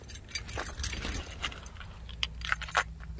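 Car key rattling and clicking as it turns in the ignition of a 1995 Cadillac Fleetwood Brougham, a few close jingles and metallic clicks with faint background hum.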